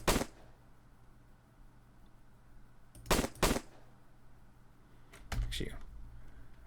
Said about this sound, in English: Okay, I guess I will shoot now 10 rounds.